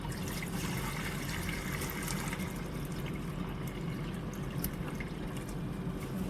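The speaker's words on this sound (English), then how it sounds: "And then I'm going to pour some water in it." Water pours steadily into a cooking pot with ginger and lemongrass inside, a continuous close splashing and trickling that lasts throughout with no voices.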